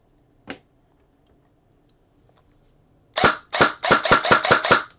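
A single sharp shot from a G&G airsoft electric gun, a pause, then a quick burst of snappy shots fired in rapid succession, loud and close.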